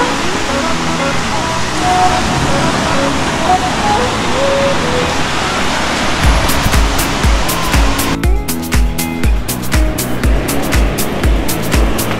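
Ocean waves wash onto a beach in San Vicente with a steady, loud broadband rush of surf, and a rhythmic thumping joins in during the second half.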